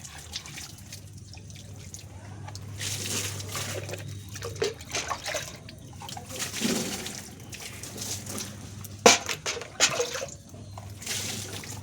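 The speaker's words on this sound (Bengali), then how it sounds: "চলো ঠাকুরতলাটা আগে ধুয়ে দিই।" Water splashing and trickling as a small outdoor shrine area is washed down, with intermittent pours and drips and faint birdsong in the background.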